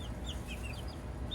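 Baby chicks kept indoors near a plant grow station cheep and cluck softly in short, scattered peeps over a faint background hum.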